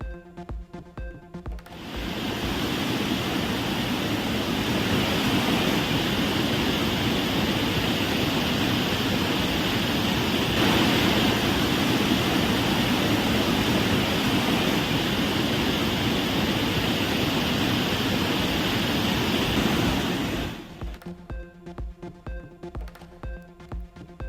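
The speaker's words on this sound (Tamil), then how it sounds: "தேனி மாவட்டம் சுருளி அருவியில் தொடர் வெள்ளப்பெருக்கு." Suruli waterfall in Theni district running in continuous flood, a loud, steady roar of rushing water that holds unbroken for about nineteen seconds and then cuts off, with no voices.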